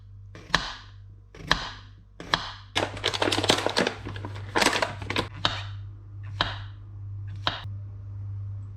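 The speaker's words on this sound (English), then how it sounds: "we have some potatoes to cut up and do in the oven" Knife chopping potatoes on a cutting board before roasting them in the oven: sharp, fairly close chops, first single spaced strokes, then a quick burst of rapid cuts, then spaced strokes again, over a steady low hum.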